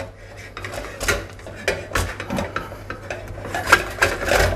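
Scraping and knocking of a spatula stirring choux-style dough drying in a saucepan over heat, with repeated clatters and thuds at an uneven rhythm, close up and fairly loud.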